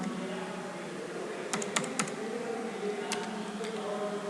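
Typing on a computer keyboard in a room with a steady hum, with a short quick run of key clicks followed by a few isolated taps, close but fairly quiet.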